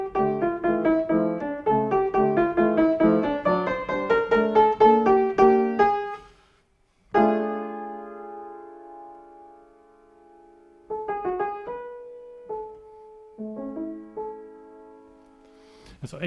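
Solo piano plays the allegro of Beethoven's Sonata No. 17 "Tempest", opening with fast repeated figures that build, then a pause and sustained chords with sparse notes, close and clear.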